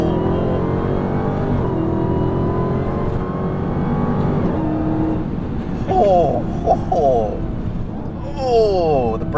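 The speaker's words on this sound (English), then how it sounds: "I love just getting that sound of that supercharger." A 2022 Dodge Charger SRT Hellcat Jailbreak accelerates hard, its supercharger whine climbing in pitch in short bursts over the engine's roar, while people talk inside the car.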